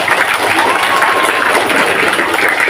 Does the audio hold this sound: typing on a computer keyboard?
no